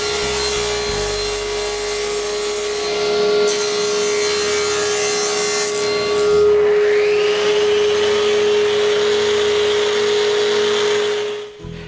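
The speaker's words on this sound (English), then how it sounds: "I measure the panels and cut them." A power saw cuts wooden dresser panels with a steady high whine and gritty rasping, continuous and loud, then winds down at the end.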